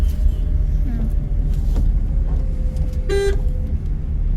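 A car horn honks briefly amid steady road traffic while a vehicle cuts ahead without signalling, the toot standing out near and loud over the continuous engine rumble.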